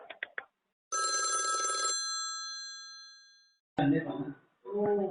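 An old-style telephone bell rings in one sustained metallic burst, then its tone rings out and slowly decays; brief clicks come before it, and voices speak after the ring fades.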